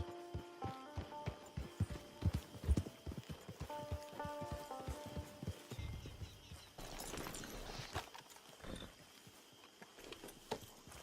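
Horse hooves clip-clop steadily in Red Dead Redemption 2 Online, a regular rhythm of close hoofbeats with tack jingles, shifting to a looser gait before fading under ambient game sound.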